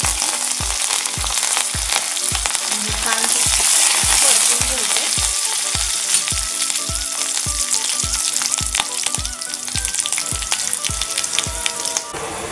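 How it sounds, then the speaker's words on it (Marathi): Garlic cloves and curry leaves sizzle steadily in hot oil as a tempering for a black lentil curry, a loud, continuous crackling fry with a regular stirring tap throughout and no voices. "फोडणी छान बसली घ्यायची."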